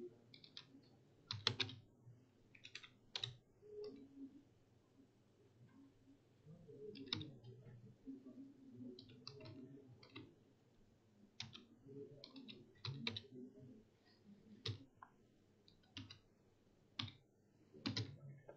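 Code is typed on a computer keyboard in irregular bursts of crisp clicking keystrokes, close and quiet, with pauses between runs and a faint low murmur underneath.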